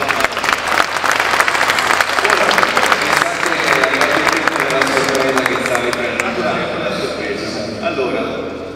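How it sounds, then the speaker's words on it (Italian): Applause from an audience in a hall at a comics presentation, loud sustained clapping that gradually thins out, with voices murmuring beneath it. "Un applauso."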